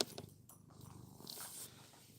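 A pet house cat purrs close by, a soft, steady low rumble that stays quiet and continuous throughout with no talk over it.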